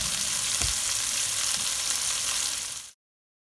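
White mushrooms sizzling in a pan as they cook down: an even, dense frying hiss with one low thump near the start, ending abruptly in silence.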